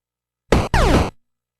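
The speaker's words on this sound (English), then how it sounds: "there's just a small, high pitched note that plays like a little ping" A short electronic sound effect from the NES game Rescue: The Embassy Mission that plays when an enemy is hit: two quick bursts, the second sliding in pitch like a boing, over in about half a second.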